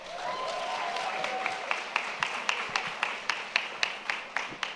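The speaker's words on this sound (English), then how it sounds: "So please give yourselves a round of applause." A large panel audience of about 300 applauds, a broad wash of clapping that thins out into a slower run of single, distinct claps near the end.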